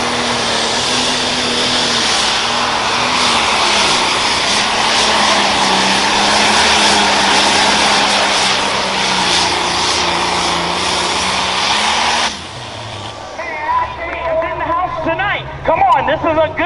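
A Light Pro Stock pulling tractor roars at full throttle during a truck and tractor pull at a county fair, a loud sustained engine drone for about twelve seconds before cutting off abruptly, leaving crowd noise and an announcer talking.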